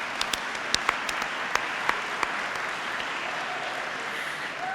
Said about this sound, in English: we would like, a round of applause